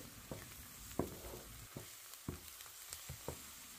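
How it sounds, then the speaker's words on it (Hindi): Garlic ginger paste fries and sizzles in a pan for a chicken tikka curry, with a steady hiss broken by several sharp scraping stirs spaced about half a second apart. "वन टेबल स्पून लहसुन अदरक की पेस्ट डालेंगे और एक मिनट के लिए इसे मिक्स कर लेंगे"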